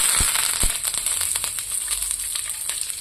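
Mustard seeds spluttering in hot oil for a Kerala muringakka theeyal, a steady close sizzle scattered with sharp popping crackles and no voices.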